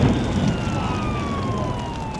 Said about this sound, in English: Over the howl of the sirens, you can hear him say